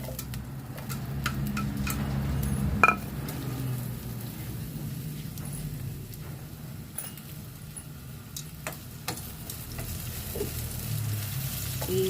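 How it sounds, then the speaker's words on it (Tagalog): Sliced onions sauté in hot oil in a pan for a home-cooked chicken bistek, a steady close sizzle with occasional light clinks and stirring, no talk. "I-gisa lang natin ng bahagya yung ating sibuyas."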